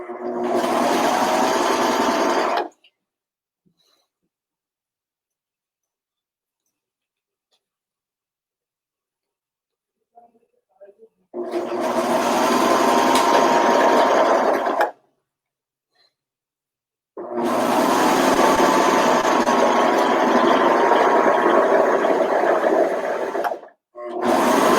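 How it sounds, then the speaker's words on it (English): Serger stitching t-shirt fabric while sewing a sleeve into a garment: three close, loud bursts of rapid mechanical whirring, separated by silent pauses. "Make sure that you don't get your fabric caught underneath the serger."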